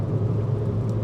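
Steady low engine rumble and road drone from a Ford Fiesta ST with a front-mounted 2-litre, 150-horsepower engine, heard from inside the car while driving, even and continuous for a brief moment.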